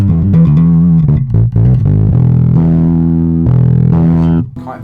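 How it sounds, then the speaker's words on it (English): Bass guitar played through an Ashdown MAG C115-300 combo amp pushed into warm, valve-like distortion, loud, gritty sustained notes and short plucked phrases filling the whole clip with no talking. "Quite valvey sounding distortion there if you use too much."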